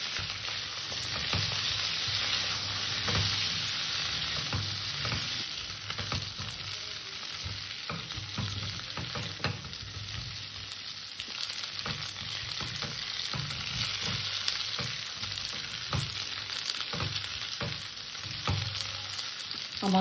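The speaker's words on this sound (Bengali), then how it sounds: "আলু আর ফুলকপিটাকে আমি একটু ভালো করে ভেজে নেব" Potato and cauliflower pieces with a little turmeric fry in oil, a continuous close sizzle with frequent scraping and stirring taps from a spatula, steady for about twenty seconds with no talking.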